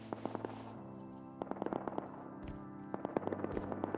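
AK rifle gunfire crackles in the video game Rust, scattered single shots and quick bursts heard faint and distant over a low background hum.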